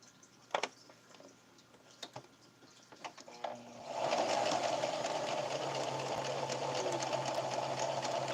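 A sewing machine starts up after a few scattered clicks and taps, then runs in a steady continuous whir while stitching black quilt sashing strips together.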